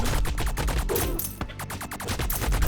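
Rapid bursts of small-rifle gunfire in a video game, fired at enemies from the water: a steady stream of sharp, loud shots, near and unbroken throughout.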